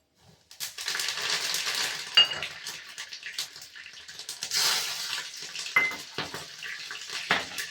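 Asafoetida, fenugreek seeds, jakhya and green chili sizzle steadily in hot oil for a pumpkin curry, a bright, close crackling hiss with scattered pops and a few stirring clinks.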